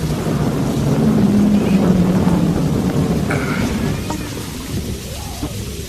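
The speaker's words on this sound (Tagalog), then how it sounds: "Masyado nang malakas ang ulan." Heavy downpour with a continuous loud roar of rain on surfaces and low rolling thunder rumbling beneath it, steady throughout with no talk.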